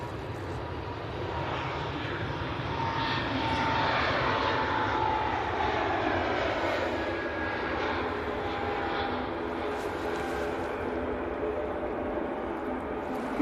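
An easyJet Airbus A320neo on its take-off roll at Manchester Airport makes a sustained engine roar that swells gradually and then holds, heard from a moderate distance with no talking.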